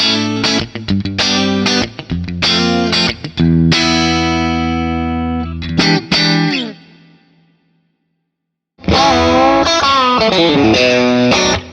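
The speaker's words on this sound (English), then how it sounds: "So here's the clean." Clean electric guitar tone from a Fractal amp-modeler live preset, loud strummed chords and picked notes ringing out with reverb, a held chord decaying into silence before playing resumes.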